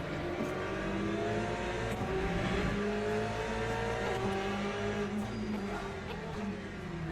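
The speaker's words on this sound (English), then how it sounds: "Oh, I locked the tyre up." A GTE race car in Le Mans Ultimate drones under steady engine load while a tyre locks and scrubs under braking, the engine note sliding down in pitch as the car slows, loud and close.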